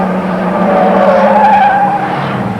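Sedan race cars roar around the Liverpool Raceway speedway, engines loud and close with tyres skidding and squealing as they pass through a turn.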